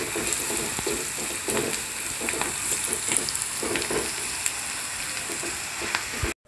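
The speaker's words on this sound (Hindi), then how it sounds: "प्याज को मैं थोड़ा हल्का सा ब्राउन करूंगी, ज़्यादा ब्राउन नहीं करूंगी।" Onions fry lightly in a pan for mutton keema, giving a constant close sizzle and hiss, with faint stirring scrapes. It stops abruptly at the very end, and no one talks.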